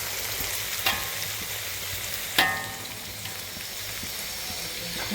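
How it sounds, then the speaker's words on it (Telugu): Street-style fried rice fries in a hot pan over high flame, a steady sizzle broken by two sharp scrapes or tosses of the spatula, close and alone without talk. "నీట్గా ఫ్రై అవ్వాలి."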